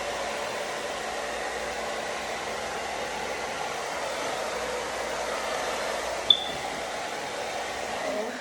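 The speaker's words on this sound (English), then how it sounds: "hit this with the blow dryer" A blow dryer runs continuously with a steady whooshing hiss, nearby and fairly even, with one brief click partway through, drying tissue paper wrapped around hair in a quick weave.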